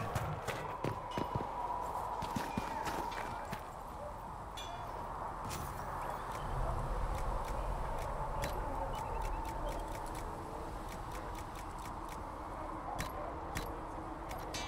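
A horse mount in the video game Dragon Age Inquisition trots with steady rhythmic clip-clop hoofbeats, close and clear, over a low ambient game soundscape with faint jingling tack.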